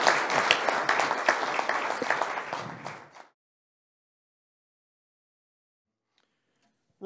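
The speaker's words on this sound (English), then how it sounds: "please give her a round of applause" A conference audience breaks into applause, a full, steady round of clapping for about three seconds that tapers and stops abruptly, followed by near silence.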